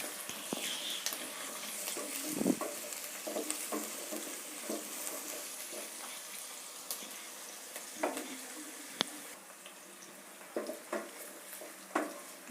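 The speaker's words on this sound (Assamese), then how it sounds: "মই নৰ্মেলকৈ মাংসটো ভাজি ল'ম। পিঁয়াজটো ব্ৰাউন হোৱালৈকে ভাজিম মই।" Onion and meat frying in a pan for chicken biryani, a steady close sizzle with occasional clinks and scrapes of stirring, no voices.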